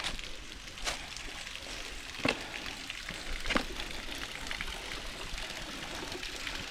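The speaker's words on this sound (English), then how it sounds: "And next, kind of mini waterfall." Continuous rushing and splashing of a small waterfall on the river at Carmelita Waterfall in central Trinidad, with a few brief louder splashes or knocks over the steady flow.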